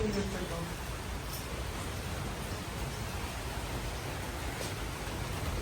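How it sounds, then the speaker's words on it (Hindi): Steady, dense heavy rain in Kerala hisses evenly throughout, a constant wash of noise with no breaks. "बारिश सुन रहे हो भाई साहब, कितनी तेज़ बारिश है"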